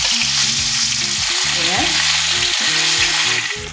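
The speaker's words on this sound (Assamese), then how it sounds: "মাছকেইপিচ প্ৰথমতে মই ভাজি ল'ম।" Pieces of fish fry in hot oil in a wok for an Assamese fish curry, a loud continuous crackling sizzle over a faint rhythmic background tune, with a brief spoken interjection.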